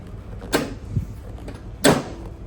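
Two solid thuds of a door on a Porsche fitted with a Mitsubishi engine, loud and close, about a second and a half apart, with no talking.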